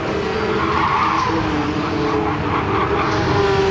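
Race car tyres skid and squeal briefly in Gran Turismo 7 at Atlanta, a steady engine drone with a faint screech layered over it, continuous and fairly loud throughout.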